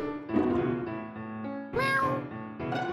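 A cat meows in the video game Last Word, a few drawn-out tonal cries over background game music, clear and close.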